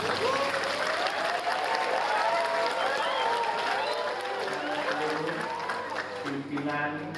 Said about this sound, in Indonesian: jadi kita beri aplaus untuk Pak Arjudian.